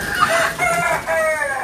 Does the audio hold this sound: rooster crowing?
yes